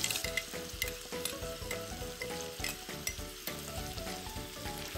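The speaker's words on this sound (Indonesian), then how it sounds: "aku bakal numis bahan yang sudah kita blender tadi" Blended spice paste for Indonesian soto ayam sizzling hard as it sautés in hot oil in a pan, a steady dense crackle with stirring scrapes and no talk.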